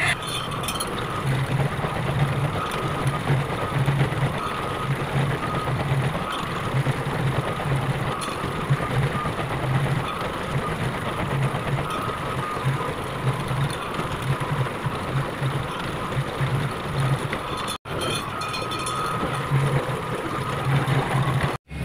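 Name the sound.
dough roller flattening bread dough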